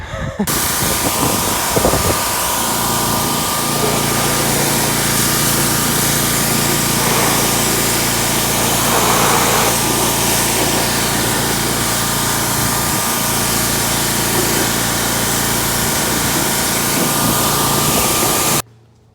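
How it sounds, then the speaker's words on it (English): Pressure washer spraying down a 2001 Honda Foreman ES ATV: a loud, steady hissing roar with a motor drone underneath, continuous for nearly the whole stretch, then cutting off at the end. "Okie doke, I'm gonna hit this thing with the pressure washer."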